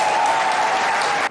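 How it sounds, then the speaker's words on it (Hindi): Studio audience at a Multan political talk show breaking into loud, dense applause, a short continuous wash of many hands clapping at once. "इसके लिए तालियां बजा दे यार"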